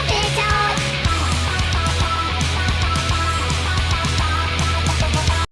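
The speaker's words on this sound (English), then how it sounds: "you could even hear where the auto-tune is like struggling to tune these notes to the right spot" Auto-tuned singing vocals in a BABYMETAL song, dense and steady with heavy drums and distorted guitars underneath, played at moderate level without pauses.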